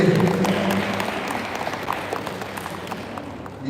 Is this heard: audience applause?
yes